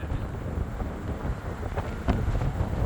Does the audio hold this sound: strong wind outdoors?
yes